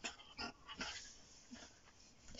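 A female puppy whimpers and yips softly in short, uneven bursts, close but quiet, with a few breathy whines spread over a couple of seconds and no speech.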